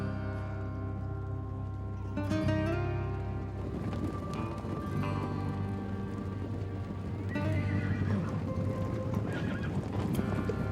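A herd of free, unbroken horses walks with steady clip-clop hooves and repeated loud neighs and whinnies, dense and continuous throughout, with a faint voice now and then.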